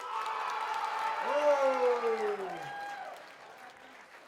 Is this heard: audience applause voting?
yes